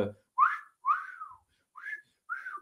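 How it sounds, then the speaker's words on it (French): Men in a wrestling crowd give four separate rising-and-falling wolf whistles, clear and moderately close, with short pauses between them and no talking. "Il y a des gars qui sifflent dans le public"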